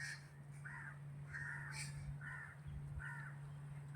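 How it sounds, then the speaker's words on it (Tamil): Crows caw around a home garden with trees: four or five separate harsh calls spaced about a second apart, moderately distant, over a steady low hum and soft outdoor background. "ஒரே காக்கா குருவிகளோட தான் இருக்கிறது"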